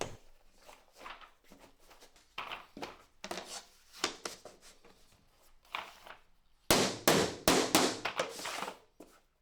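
A hammer taps against a backing block to knock vinyl or laminate floor planks into place on a basement concrete slab, giving a close series of sharp knocks in irregular clusters that grow louder and faster toward the end.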